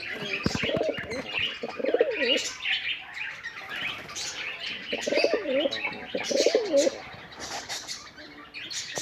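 Pigeons coo in repeated throaty bursts nearby, with scattered bird chirps and a bit of wing flutter around them.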